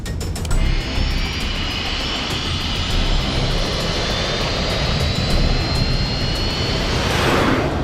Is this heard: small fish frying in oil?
no